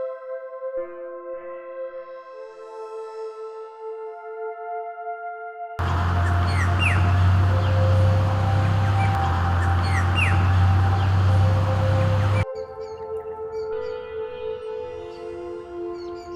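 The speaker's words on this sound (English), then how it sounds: "Listen to the birds," Birds sing in the countryside, clear chirps and calls standing alone at the start and end, with a louder stretch in the middle where a low drone and other noise mix with the birdsong.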